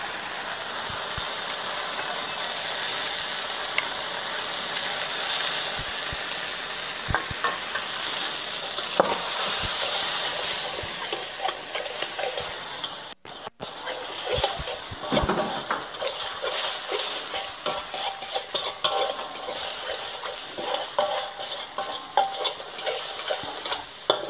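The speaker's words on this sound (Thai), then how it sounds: "คั่วไฟอ่อนให้หัวกะทิแตกมันเลยค่ะจนกว่าน้ำมันของมะพร้าวออกมา" Coconut cream and curry paste are stir-fried over low heat in a pan for a pineapple curry, giving a soft steady sizzle with scattered scraping and stirring ticks, fairly quiet and close, with no talking.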